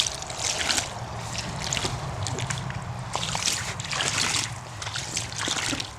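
Water pours into an Intex above-ground pool with a steady trickle and splash, sloshing in uneven bursts.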